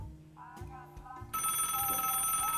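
A telephone rings in a room, its bright trilling bell starting partway through and holding loud and continuous after some quieter sounds and brief voices.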